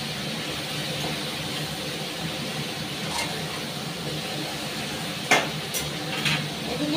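Spice paste (masala) frying in a pan with a splash of water, stirred as it cooks: a steady, close sizzle that runs throughout, with a couple of sharper scraping clinks near the end.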